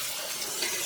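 Water poured from a can onto succulent plants in winter, a steady close hiss and splash over a short stretch with no voices.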